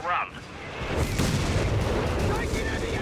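Artillery barrage in the Company of Heroes 3 strategy game, a dense continuous rumble of booms and blasts rolling on for several seconds after a brief tonal blip at the start, with no speech in the clip.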